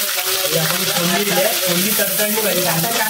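Garlic, curry leaves and onion sizzle loudly in hot tempering oil for a Konkani colocasia leaf curry, a close, continuous crackling fry with faint stirring.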